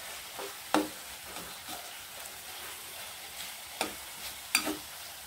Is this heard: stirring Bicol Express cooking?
yes